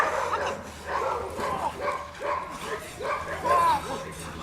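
A protection-trained dog barks repeatedly during bite work at a training demonstration in Townsville, with a steady run of sharp barks and yips close by, mixed with people talking.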